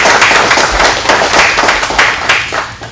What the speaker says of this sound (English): I think we owe them a round of applause for